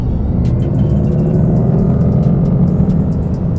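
Synthetic drive sound from a Mercedes-AMG EQE 43 electric sedan in its powerful sound mode, a steady deep bass hum and rumble filling the cabin, continuous and fairly loud with faint higher flutters on top.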